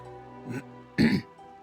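A voice imitates a character's gruff throat clearing, a short rasp followed by a louder, harsher hack, close and alone.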